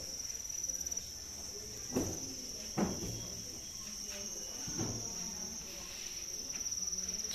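Crickets raised as bird feed on a cricket farm chirp in a dense, continuous high-pitched trill that fills the whole stretch, with a few dull thumps and knocks nearby.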